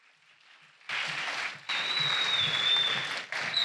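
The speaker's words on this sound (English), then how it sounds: "I think we can give them a bigger applause" Applause from the crowd at a high school graduation ceremony, starting faint and then swelling into a full, steady round of clapping with a thin whistle riding over it, cutting off briefly before resuming.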